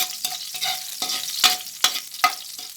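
Garlic sautés in a pan with a bright, crackling sizzle, broken by rhythmic scraping and stirring strokes at close range.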